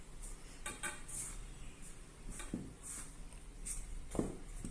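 Maida and rice flour mixed together in a bowl for soft Kannur-style unniyappam, giving faint, scattered clinks and light scrapes against the bowl, close but quiet, with no talking.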